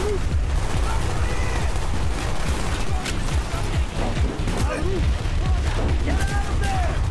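Constant gunfire from the Vietnam mission of the video game Call of Duty: Black Ops: dense bursts of rifle and machine-gun shots, loud and continuous, with booming impacts throughout.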